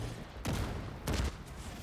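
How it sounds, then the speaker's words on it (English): Mortar explosions in The Division 2 video game, two loud booming impacts about half a second long, roughly 0.6 seconds apart, over a steady din of battle. "Mortars are hitting him."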